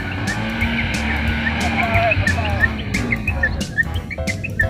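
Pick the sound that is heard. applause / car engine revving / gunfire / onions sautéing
car engine revving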